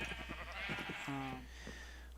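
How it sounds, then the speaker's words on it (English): Sheep bleating in the Minecraft video game, several overlapping calls in a steady stream with one clear drawn-out bleat in the middle, fairly loud over a constant low hum. "those sheep are noisy"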